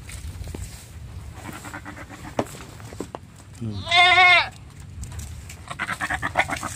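A male goat gives one loud, close bleat lasting about half a second, standing out clearly over low outdoor background noise.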